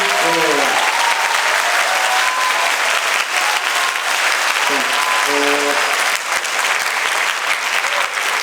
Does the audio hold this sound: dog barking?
no